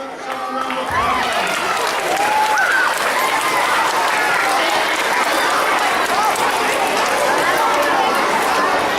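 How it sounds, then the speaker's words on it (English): A school assembly crowd bursts into loud applause mixed with cheering and excited chatter, a continuous close roar of many students that stays strong throughout. "give me a round of applause"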